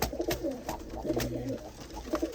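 Pigeons coo nearby in a pigeon-keeping yard, with several rolling, throaty calls overlapping at moderate loudness against a steady outdoor hiss and occasional clicks.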